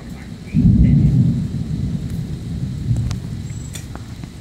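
A deep rumble of thunder from a lightning storm rolls in suddenly and loudly, then slowly fades over several seconds while rain patters faintly in the background.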